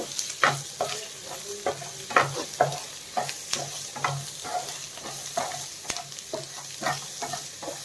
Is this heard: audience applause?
no